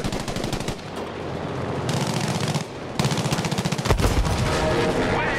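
Bf 109 G6 fighter guns firing in the video game Battlefield V: loud, rapid machine-gun bursts in several long strings, with short breaks between volleys.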